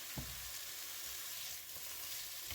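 Wild mushrooms stirred while frying in a pan, a steady close sizzle running throughout with a few soft scrapes of the spoon, no talking.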